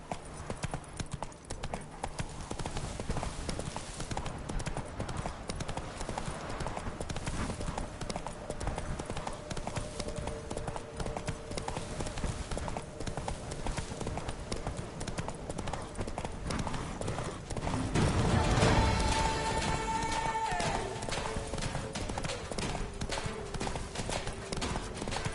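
Roach, the horse in The Witcher 3: Blood and Wine, gallops with rapid rhythmic hoof clip-clops over continuous game ambience and music, a louder swell of action near the end.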